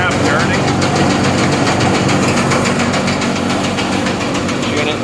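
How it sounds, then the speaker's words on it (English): A rebuilt Clipper M2BC seed and grain cleaner with ball trays runs steadily, its auger turning in the tube and eccentric shaft driving a dense, continuous mechanical rattle and hum, loud and close throughout. "You can see the auger turning around in the tube. See the eccentric shaft turning."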